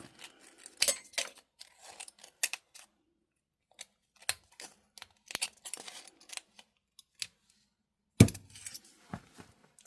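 Scissors snipping the thin aluminium edges off a soda can for jewelry crafts, a run of sharp metallic clips and crunches, close and fairly quiet, with gaps between bursts and one louder snap near the end.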